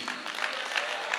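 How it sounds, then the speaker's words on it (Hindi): Audience clapping at an indoor business opportunity seminar, a fairly faint, brief burst of applause with light crowd murmur. "जोरदार तालियां होनी चाहिए।"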